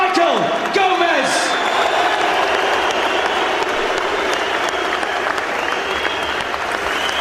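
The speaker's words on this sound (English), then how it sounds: "A round of applause for the gallant Michael Gomez." Boxing arena crowd applauds and cheers for fighter Michael Gomez after his bout with Amir Khan in June 2008, dense steady clapping from a large audience with a voice and whistles over it.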